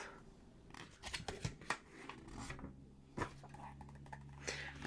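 Paper torn off a small notepad in a quiet room, a few close, crisp ripping and crinkling bursts spread across the moment with soft handling noises between them, no talking.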